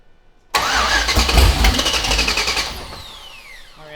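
An LS-swapped Nissan R32 GTR fires up abruptly, with a loud close crank and catch, then a rough, rumbling idle that gradually settles and fades.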